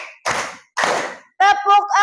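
Two broad, noisy bursts, likely a classroom group clapping together in an ice-breaking game, followed by a voice chanting the count.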